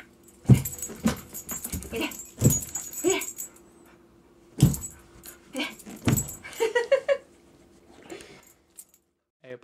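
A Boxer dog plays with a laser pointer, letting out excited yips and whimpers in scattered bursts, mixed with sharp clicks and scrabbling noises close by.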